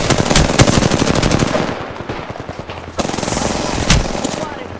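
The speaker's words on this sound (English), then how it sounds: "I'm taking fire." Rapid automatic gunfire in a sci-fi shooter video game, loud bursts of close machine-gun fire with a short lull and then renewed shooting and a sharp report; a voice talks over part of it.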